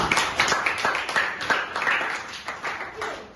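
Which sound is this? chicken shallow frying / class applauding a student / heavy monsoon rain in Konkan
class applauding a student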